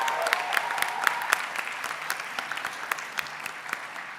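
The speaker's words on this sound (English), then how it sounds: "please give a huge round of applause for all the faculty advisors and parents" A large audience at a Model UN conference closing ceremony claps for faculty advisors and parents, a dense, steady applause with sharp individual claps, moderately loud and sustained throughout.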